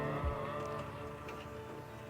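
A truck engine idles and creeps steadily in reverse on a rocky offroad trail, a continuous low motor drone close by with a brief louder thump near the start.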